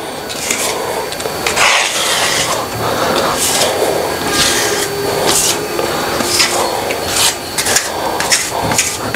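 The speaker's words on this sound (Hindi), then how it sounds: "देखिए ये अच्छा से इसको 2-3 बार ऐसे रगड़े तो उसका अंदर तक जाएगा प्रेस होके।" Sealant rubbed by hand into a leaking granite kitchen sink, giving a steady series of close, scratchy rubbing strokes, repeated over and over, with no talking.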